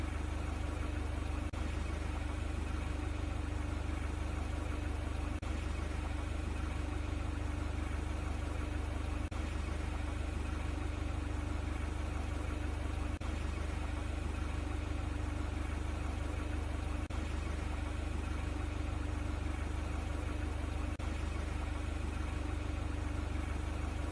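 Forklift engine idling in a virtual reality warehouse training simulator, a steady low drone and hum that holds unchanged throughout, faint and continuous, with faint periodic clicks and no voices.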